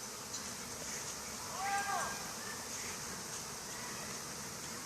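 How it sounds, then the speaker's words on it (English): A swarm of honey bees buzzes as a faint, steady drone, with one closer bee briefly rising and falling in pitch as it passes near, and no talking. "We've got a swarm"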